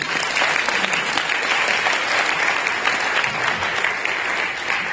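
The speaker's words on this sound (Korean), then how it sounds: "오늘 발표해 주신 세 분과 토론 두 분에게 다시 한 번 뜨거운 박수를 부탁드립니다" A hotel ballroom audience at a blockchain and AI leaders' forum in Seoul applauds the presenters and panelists, a loud, dense, continuous wash of clapping that holds steady throughout without pause.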